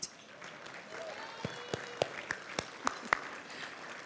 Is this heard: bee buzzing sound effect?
no